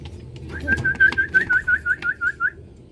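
A pigeon coos in a rhythmic run of about ten soft, evenly spaced notes, close and clear over faint background noise.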